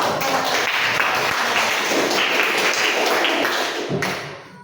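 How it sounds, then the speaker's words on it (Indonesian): In a classroom, students give a classmate a round of applause: close, busy clapping from many hands mixed with taps and desk thumps, steady for several seconds before trailing off. "Tepuk tangan dulu."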